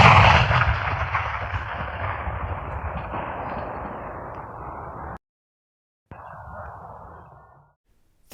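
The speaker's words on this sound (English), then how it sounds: "The battle started with cannons firing at all directions" A heavy booming cannon blast at a Battle of Stones River reenactment rolls into a long decaying rumble across a foggy valley, then cuts out, and a second, fainter burst follows and fades.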